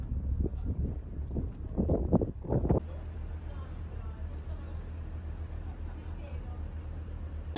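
Strong wind buffets the microphone aboard a boat in Egypt, a steady loud rumbling roar that runs continuously, with louder gusty bursts in the first few seconds.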